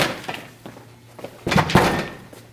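A door thuds and slams shut in a broadcast studio setting, a few dull knocks followed by two louder impacts close by, with no talk over them.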